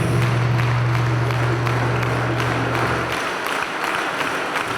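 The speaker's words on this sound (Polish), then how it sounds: "To dla Was te brawa" A crowd claps steadily and fairly loudly for primary school performers at a municipal Independence Day celebration in Poland, with a low sustained tone fading out partway through as the clapping continues.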